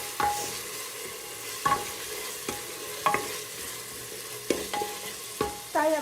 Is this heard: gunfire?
no